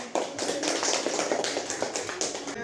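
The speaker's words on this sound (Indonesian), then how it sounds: "Beri tepuk tangan untuk kelompok 1" A class of primary school pupils claps for the first group after its presentation, a dense, fast patter of many small hands in a classroom, steady and fairly loud for a few seconds.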